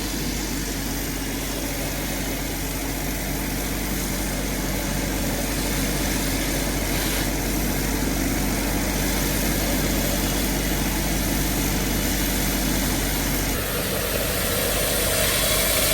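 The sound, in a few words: Aqua Blaster Mark II sprayer engine running, 280 horsepower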